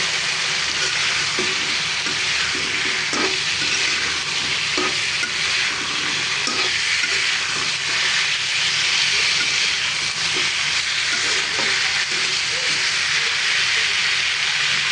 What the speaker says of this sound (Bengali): কেটে রাখা পটলগুলো দিয়ে দিব দিয়ে পটলটাকে ভালো করে কষিয়ে নেব